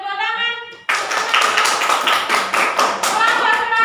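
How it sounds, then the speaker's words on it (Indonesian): Classroom students break into clapping after a brief stretch of speech, a burst of many hands that continues briskly and fairly loud to the end. "Silakan beri tepuk tangan."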